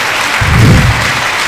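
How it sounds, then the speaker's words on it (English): Applause rises from an audience after a valedictory lecture honouring Professor Juliana O. Taiwo, a dense low-pitched swell that peaks midway and then eases off, with a faint hum before and after. "a resounding round of applause for that wonderful lecture"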